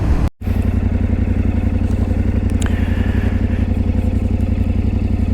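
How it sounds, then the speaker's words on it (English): A 2025 Yamaha Tenere 700 motorcycle engine at a steady, throbbing low rumble heard from on the bike, loud and continuous after a brief cut at the start. "So I'm riding a 2025 Yamaha Tenere 700."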